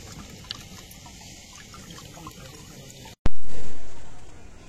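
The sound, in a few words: pouring tamarind water into cooking pot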